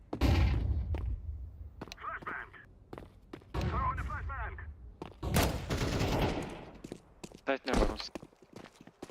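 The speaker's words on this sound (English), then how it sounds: "Flashbang." Flashbang and rapid gunfire in a video game, with dense bursts of shots and thuds throughout, loud and close, mixed with a person talking over the action.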